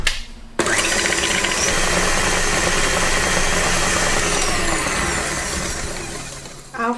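Egg and sugar whisked in a mixing bowl for almond muffins, a steady, loud, dense whirring that runs continuously for several seconds after a brief start, consistent with an electric hand mixer.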